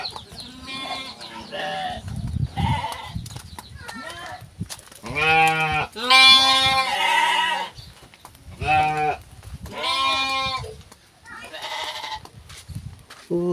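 Goats in a pen in a village among rice fields near Sukabumi bleat loudly and repeatedly, with calls overlapping one another close by, and faint human voices are in the background.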